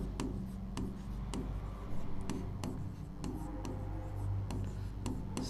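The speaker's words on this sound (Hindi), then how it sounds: "हिंदी में लिख रहा हूँ" Pen or pencil writing by hand on paper, a close, quiet scratching with short strokes and light taps, steady and unhurried, with no talking.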